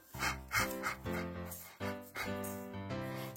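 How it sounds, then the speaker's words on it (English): A dog barks in a rapid series of woofs, close and clear, with a few short pauses between bursts. "This is a dog. Ruff, ruff."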